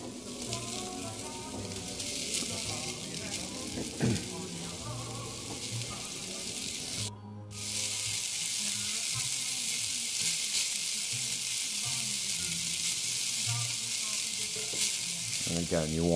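Beef chunks for stew sear in a hot pan with a loud, continuous sizzle that briefly dips before surging back, close and unbroken by talk.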